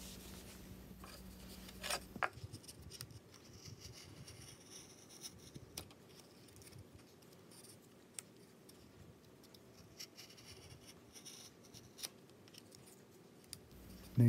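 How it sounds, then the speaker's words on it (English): A carving knife slices thin wood fibers while shaping a wooden owl's wing, giving faint, crisp scraping cuts and small ticks scattered across a quiet, close background. "Now you can hear the wood fibers slicing, because that wing is much thinner now."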